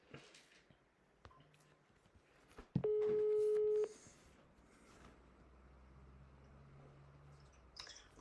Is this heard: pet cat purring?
no